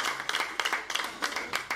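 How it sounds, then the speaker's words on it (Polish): An audience at a Polish stand-up comedy show claps for the comedian Łukasz, a dense burst of applause with brisk overlapping hand claps, close and steady throughout. "Jeszcze raz brawa dla Łukasza, bo on robi robotę."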